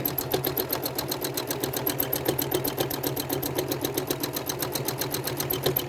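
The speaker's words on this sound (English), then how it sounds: "I will essentially straight stitch down a seam line to that next point in the block" A sewing machine straight-stitches along a quilt seam line, running at a steady, fast, even rhythm from start to finish with a constant motor hum, close and alone.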